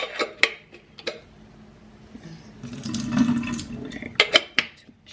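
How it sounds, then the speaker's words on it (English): Tap water runs into a kettle for about two seconds, a steady gushing fill. Sharp clicks and clanks from handling the kettle and lid come before and after it. "Let me put some water in the kettle."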